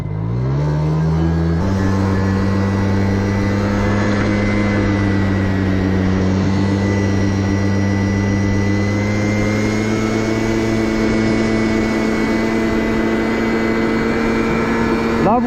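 An MBK stunt moped engine fitted with a lithium battery revs at about a third throttle, a loud droning buzz with steady tones that climbs slightly after a quick early rise and holds, close by.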